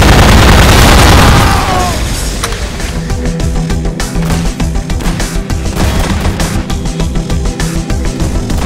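A loud booming explosion opens, followed by a rumbling stretch of rapid repeated blasts and crackling bangs, like game combat.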